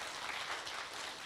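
Faint, distant applause from a crowd at a speaking tour event, a brief even wash of clapping with no talk.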